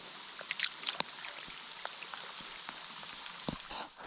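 Light rain patters on the water and a canoe on an Adirondack pond, with scattered drops, soft paddle knocks and a steady hiss, close and fairly quiet.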